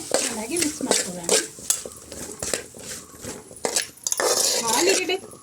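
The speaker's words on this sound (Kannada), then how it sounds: "ಉಪ್ಪು ಹಾಕೊಂಡು ಒಮ್ಮೆ ಚೆನ್ನಾಗಿ ಮಿಕ್ಸ್ ಮಾಡ್ಕೊಳ್ಳೋಣ." Salted diced potatoes frying in oil in a pan for a potato masala gravy are stirred with a utensil, giving repeated clinks and scrapes against the metal over a soft sizzle, with brief rustles between strokes.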